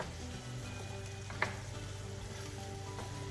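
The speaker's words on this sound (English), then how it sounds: "So I just kind of stir it around a little bit in here." Onions and peppers sizzle softly in a pan as they are stirred, a faint steady frying hiss with one sharp utensil tap partway through and a low hum underneath, no talking.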